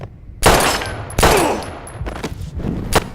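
Loud close gunshots in the video game Life is Strange, two sharp blasts with ringing decay followed by a few quicker shots, near and alone without talk.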